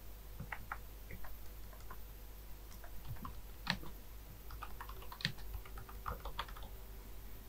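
Steady, quiet keyboard typing on a computer as a title is entered in After Effects: a run of light, irregular key clicks with a few sharper taps, heard alone with no voices.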